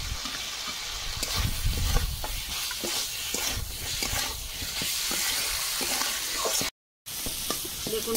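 Shrimp frying and being stirred with panch phoron spices in a pan, a steady close sizzle with repeated scraping strokes throughout, briefly cut to silence near the end.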